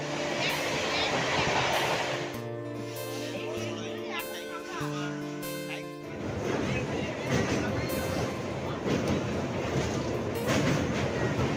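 A train runs at a busy railway station in Digha. Steady, loud rolling clatter and rumble fill the scene, with a drawn-out tonal passage partway through and crowd noise underneath.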